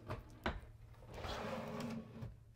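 Full-extension drawers in a 2024 Newmar Dutch Star motorhome slide open and shut with a couple of quick knocks at the start, then a smooth rolling glide of runners, close by with no talking.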